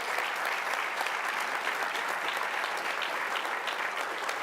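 Audience applause at a university student honors award ceremony, dense steady clapping from a large crowd sustained evenly throughout.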